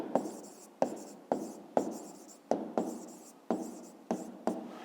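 A pen writes answers for a fifth-grade math exercise, a steady series of about ten close, soft scratching strokes, each starting with a light tap, with no talking.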